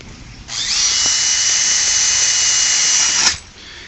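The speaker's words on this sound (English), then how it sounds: "we're just drilling those holes through so we can wire the grill down onto it" An electric drill bores small holes through the side of a bucket for a rocket stove, a close, loud, steady high whine lasting about three seconds before spinning down.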